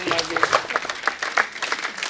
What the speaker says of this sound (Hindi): जैकी सर के लिए जोरदार तालियां।